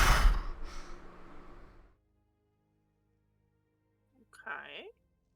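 During a tabletop fantasy role-play session, a person imitates a bull's heavy breathing with a loud, breathy, rasping exhale. It fades out and is followed by silence and a short, low vocal sound.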